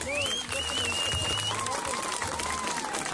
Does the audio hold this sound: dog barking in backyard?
no